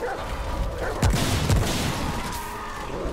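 A dog barking in the video game Remnant, two short barks close together, moderately loud over a constant game background hum.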